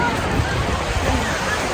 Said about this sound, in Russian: Волны какие сегодня и ветерок.